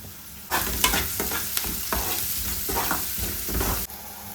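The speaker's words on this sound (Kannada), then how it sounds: "ನೋಡಿ, ಈರುಳ್ಳಿನೂ ಕೂಡ ನೀಟಾಗಿ ಫ್ರೈ ಆಯಿತು." Onions and spices, with garam masala and salt, fry and sizzle in a pan while being stirred, with repeated scraping strokes over a steady sizzle that starts abruptly and stops near the end.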